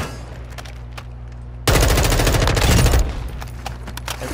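Sustained automatic gunfire from a shooter video game bursts in suddenly and loud, a dense rapid volley lasting over a second before dropping back to scattered distant shots and game ambience.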